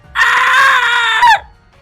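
A loud, sustained wail or scream as a spirit enters a body, rising sharply and holding for over a second before cutting off, alone with no talk.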